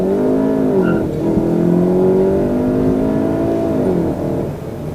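A 2019 Volkswagen Golf GTI launches under launch control. The engine revs hard, holding a high, strained tone that climbs as the car pulls away, then eases off near the end. The sound is loud and close, with no talking.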